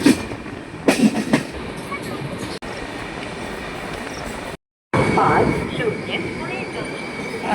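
A passenger train runs toward Badnera station near Amravati, a steady loud rumble of wheels and carriage noise with a few sharp clanks early on, a brief dropout near the middle, then the rolling roar resumes, with faint voices mixed in.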